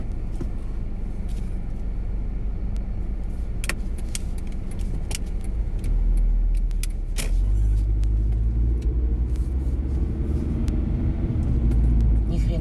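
A car creeps along in a traffic jam, its low engine rumble and road noise steady throughout, with occasional clicks and rattles inside the cabin and a heavier rumble from nearby traffic in the second half.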